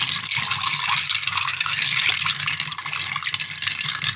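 A spoon stirs an absinthe martini over ice in a mixing glass, giving a continuous close, bright clinking rattle that runs unbroken for a few seconds.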